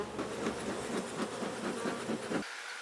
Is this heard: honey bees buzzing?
yes